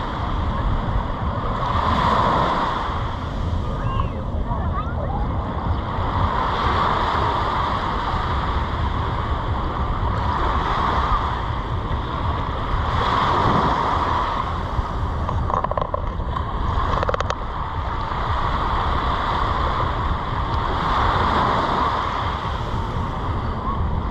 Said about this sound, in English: the relaxing sound of little waves